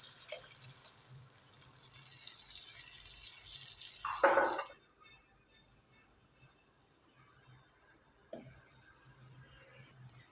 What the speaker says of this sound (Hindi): अब इस जगह पे हमने आके पानी शामिल कर देना है।